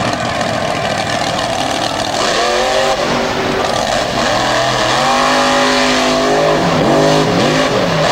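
A tough truck tearing across an off-road course at a motorsport event, its engine roaring and revving repeatedly in rising and falling sweeps, loud and fairly close, over a busy outdoor crowd-like wash.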